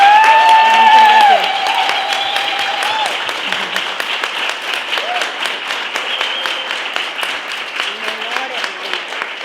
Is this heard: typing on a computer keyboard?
no